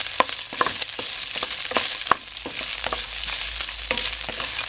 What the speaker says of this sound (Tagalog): Haluin lang natin para medyo mag-brown yung pork.